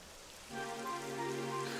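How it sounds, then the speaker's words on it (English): Rain falls in Dragon Quest XI, beginning as a soft steady patter that rises after a moment and continues under tonal game music, with no talking. "It would have to go and start rain."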